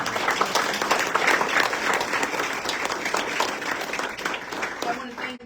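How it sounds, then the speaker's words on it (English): An audience breaks into loud, sustained applause at a public event with New York State's Attorney General, steady dense clapping that slowly tapers off over several seconds. "let's give him another round of applause"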